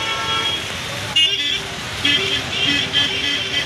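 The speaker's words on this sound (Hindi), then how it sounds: "इस तरह से गाड़ी आना जाना कर रही है।" Cars and buses drive slowly through a waterlogged city street in Kolkata during heavy rain, giving a steady roadway rumble and splashing with a few short horn toots as people talk nearby.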